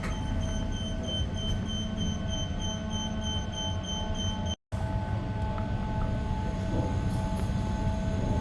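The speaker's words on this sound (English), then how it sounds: "So this is one of 4 incline lifts on the Elizabeth line." A steady mechanical hum and whine of a cable-driven incline lift running on rails at Farringdon station on London's Elizabeth line, with a constant drone and faint tonal whirring, briefly cut off midway.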